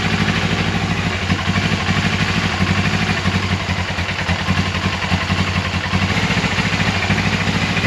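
A 1989 Suzuki GS500 motorcycle engine idles steadily with the choke on, a loud, continuous close-up rumble with fast, even firing pulses and light mechanical clatter throughout.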